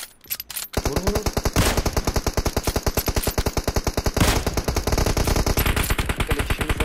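Automatic gunfire in the PUBG Mobile video game, loud and close, with long rapid bursts of shots after a brief quiet start and short pauses between strings of fire.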